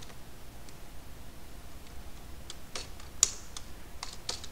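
Code is typed on a computer keyboard, with sparse, quiet, irregular key clicks and a few sharper taps against a faint background hiss.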